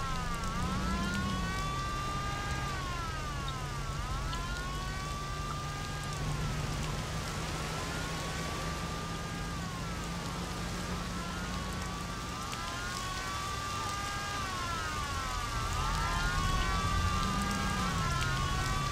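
A wailing police siren in the video game Mafia sweeps up and down continuously, loud over a steady engine drone and noisy background, like a game soundtrack.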